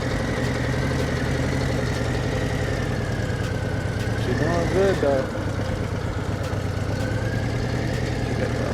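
A motorcycle engine idles steadily through a practice session in a parking lot with cones, a low continuous rumble under nearby talking, with a brief swell of extra engine tone partway through.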